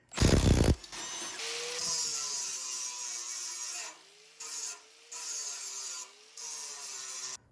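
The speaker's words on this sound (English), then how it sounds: "Let's see if we can sharpen this blade." A file scrapes along a Troy-Bilt mower blade in rhythmic strokes, a raspy metallic grinding in bursts separated by brief pauses, close and fairly quiet after an initial loud clatter.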